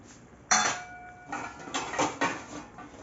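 Lentil dumplings (bori) are dropped into a metal pot of mixed vegetables and mung dal in a home kitchen, giving a sharp clink followed by softer scraping and clattering against the pot.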